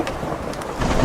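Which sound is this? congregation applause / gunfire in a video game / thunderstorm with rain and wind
thunderstorm with rain and wind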